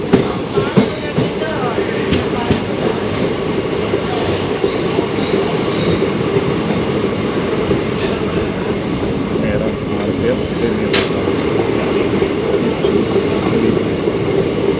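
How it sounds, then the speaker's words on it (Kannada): The Basava Express, train 17307, rolls loud and steady through a station, wheels rumbling and clacking with occasional squeals for the whole stretch. "Basava express train number."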